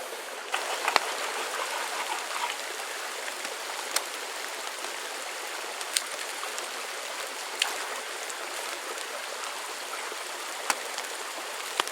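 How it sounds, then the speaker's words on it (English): Steady pouring rain, a dense continuous hiss with occasional sharper drop splashes scattered through, even in level and moderately close, no voices. "Started pouring rain."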